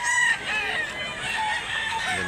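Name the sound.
chicken clucking and crowing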